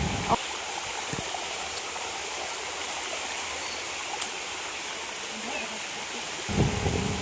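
Water rushes steadily at Nithya Pooja Kona, a temple site in the Lankamala forest, a continuous close hiss with faint voices at the start and end.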